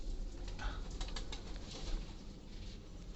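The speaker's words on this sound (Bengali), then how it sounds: "ঘরে অনেকগুলো কবুতর আছে" Pigeons in a farm house coo in a low rumbling murmur beneath steady broadband noise, with a few soft rustles and wing flutters, fairly faint and continuous.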